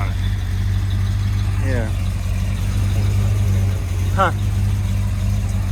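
An old 34-year-old Chevrolet car engine, fitted with a new exhaust muffler, idles with a steady low rumble throughout, while people talk briefly over it.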